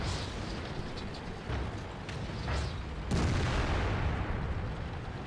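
Tank gun fire in a tank video game, aimed at a Jagdpanzer: dull heavy booms with a strong blast near the three-second mark, over constant rumbling battle noise.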